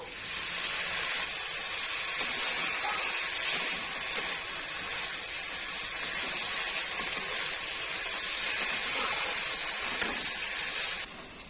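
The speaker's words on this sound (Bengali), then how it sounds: "জলের ফোয়ারা দিয়ে দেবো।" Water splashed onto spices frying in hot oil gives a loud, continuous sizzling hiss that holds steady for about eleven seconds before easing at the end.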